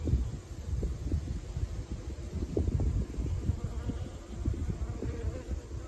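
Honey bees drone in a steady low buzz at a hive with a fall mite infestation, close and continuous with faint fluctuations and no talk.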